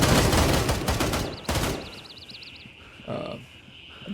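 Gunfire rattles in a realistic tactical shooter video game, a dense close burst of rapid shots followed by another sharp volley, then quieter distant exchanges of fire as the gunfight continues.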